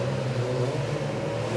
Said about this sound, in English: You can hear each of the drivers clunk the car into gear.